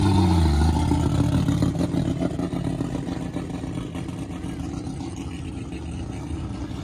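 A deep, rumbling turbocharged car engine running on ethanol idles and burbles nearby at a car meet, loud at first with a throaty low growl that settles into a steady rough drone.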